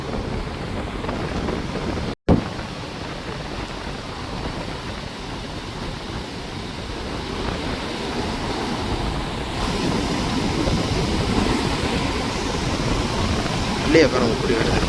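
Storm-driven sea waves surge against the Jaffna coast, a heavy, continuous roar of surf mixed with wind buffeting the microphone, with a few louder bursts.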